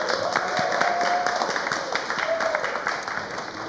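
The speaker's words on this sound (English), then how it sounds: "can we have a round of applause for our catering staff?" An audience at a synagogue Passover seder applauds the catering staff, steady clapping from many hands filling the room, with a voice speaking faintly underneath.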